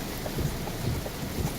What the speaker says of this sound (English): It's literally like a storm.